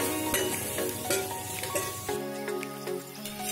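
Masala and turmeric being stirred into softened tomatoes in a pan for a Vadval-style bombil rassa, a steady close sizzle with scraping spoon strokes and a few light clinks, no talking.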